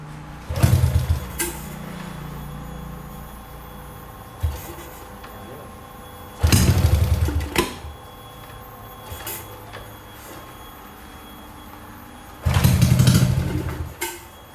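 A Honda Wave 110i racing-build motorcycle engine with a 53 mm bore cranks and catches in three short bursts, each followed by a quieter low running sound in between.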